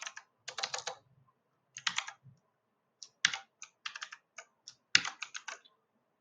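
Computer keyboard keys clattering as code is typed, crisp clicks in quick uneven bursts separated by short pauses, close and clear with no voice over them.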